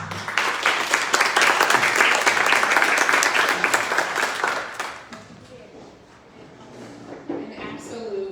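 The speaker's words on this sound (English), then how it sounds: "An absolute round of applause for Kritika" Audience applauding a speaker at a public safety discussion event, loud dense clapping for about five seconds that fades out, followed by quieter room noise and faint voices.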